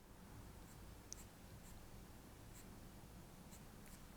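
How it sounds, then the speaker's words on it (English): A 5B graphite pencil drawing on paper, a very faint, steady soft scratching of shading strokes, with a few tiny ticks and no speech. "What pencil am I using here?"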